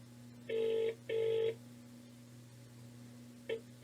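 Two long touch-tone dialing beeps, then a brief third one, sound clearly over a steady low electrical hum from a phone line, with no talk.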